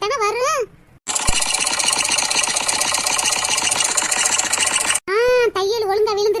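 A sewing machine stitches in a fast, steady, rhythmic rattle lasting about four seconds, with voices heard briefly just before and after the run.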